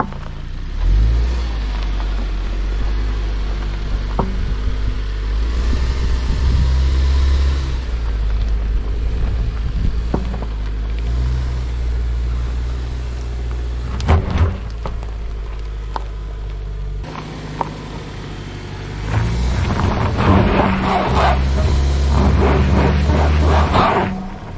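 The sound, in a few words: 2024 Subaru Ascent SUV driving over rocky dirt trail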